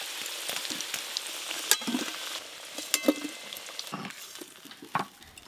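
Chicken pieces frying lightly in hot oil for a chicken curry, a steady soft sizzle with scattered sharper crackles and pops, close and moderately quiet, with no talk.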